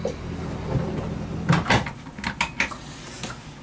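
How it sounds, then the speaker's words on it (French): A storage drawer on a Nimbus 365 Coupé twin-engine boat being opened, a few quick sliding and knocking clunks close by in a quiet cabin. "Ici également, on retrouve un tiroir pour le rangement."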